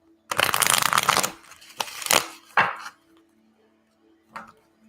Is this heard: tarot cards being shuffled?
yes